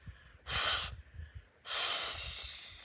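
Two strong breaths blown through the small inflation valve of an inflatable camping pillow, each a loud, close, airy rush of about half a second to a second, separated by a short pause.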